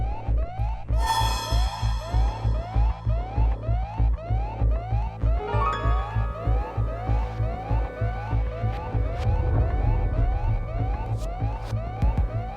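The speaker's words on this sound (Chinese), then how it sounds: "怎么警报就响起来了呢" A rhythmic electronic alarm siren wails in repeating pulses over a steady low throbbing drone, loud and close, with no voices.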